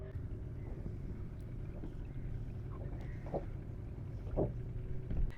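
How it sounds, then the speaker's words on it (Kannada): A motor boat on the backwaters at Honnavara, Karnataka, gives a steady low engine rumble with wind and water noise, continuous and moderately quiet, with a few faint knocks. "ಇವಾಗ ಬೋಟ್ ರೈಡಿಂಗ ಬ್ಯಾಕ್ ವಾಟರ್ಸ್ನಲ್ಲಿ ಕಂಪ್ಲೀಟ್ ಮಾಡಿ ಬಂದ್ವಿ"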